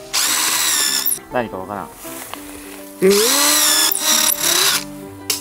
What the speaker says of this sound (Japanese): 結構穴を開けてる。